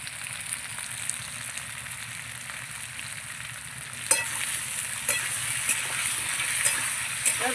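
Potato and pointed gourd fry in a pan with salt and turmeric, a steady close sizzle running throughout, with occasional stirring clinks and scrapes breaking through in the second half.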